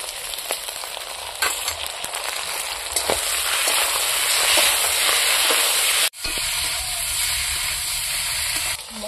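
Ground ginger, cumin, garlic and dried red chilli paste sizzles steadily in a pan for a village-style desi chicken curry, a loud continuous hiss with scattered crackles, briefly cut near the end before resuming.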